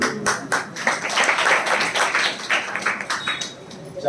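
Scattered clapping from a small audience at a Jain religious class, a few people tapping hands together in an uneven patter mixed with murmuring voices, moderately close and not building into full applause.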